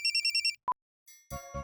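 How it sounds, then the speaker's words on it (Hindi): A mobile phone ringtone for an incoming call: a short pulsed melody repeats several times, then a single clear beep, then more layered tones with two low thumps. Loud and close, with no voices. "बॉस का फोन है।"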